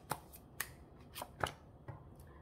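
Tarot cards are shuffled and drawn in a handful of quiet, crisp flicks and snaps, five short bursts spaced about half a second apart against near silence.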